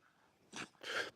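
A single short sneeze, close and fairly soft, with a quick intake of breath before a sharper burst.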